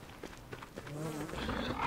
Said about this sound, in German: Warum verfolgt uns hier eine Biene?